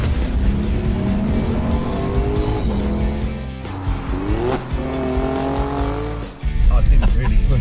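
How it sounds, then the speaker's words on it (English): A 2024 Seat Ibiza engine revving and rising through gears as the car accelerates hard, with tire squeal and a loud, continuous roar interrupted by brief gear shifts. "This is how a car should sound."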